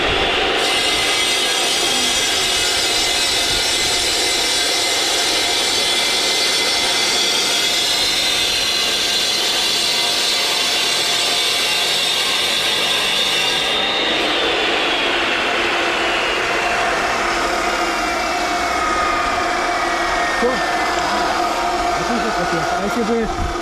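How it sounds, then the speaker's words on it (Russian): A bench miter saw cuts through a brick while a fireplace is being built, a loud continuous grinding whine that drops in pitch partway through and then winds down, with people talking underneath. "у тебя такой торцовочный станочек, мы сюда вот кирпичик улаживаем"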